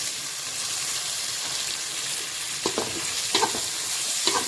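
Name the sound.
tomatoes sautéing in pan for fish curry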